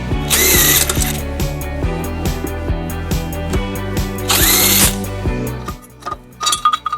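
A power tool with a 14mm socket spins out tow hook bolts on a 2007 Nissan Murano, loud close whirring and ratcheting bursts that stop and start, ending in a few sharp clanks.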